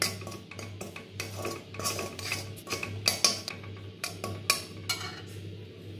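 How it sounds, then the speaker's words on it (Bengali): A metal kadai is handled in a kitchen with a scatter of clinks, scrapes and knocks of pot and utensils against the stove, light and close against a steady low hum, with no one talking. "আমি আবারও একই পাতিল অর্থাৎ কড়াই ধুয়ে চুলায় দিয়েছি।"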